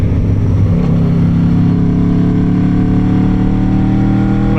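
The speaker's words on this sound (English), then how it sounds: "there's nothing compares to that V4 right there" A V4 motorcycle engine roars loud and close while riding, a steady dense drone with a rising pitch sweep early on, then holding a strong sustained tone with no wind noise or talk.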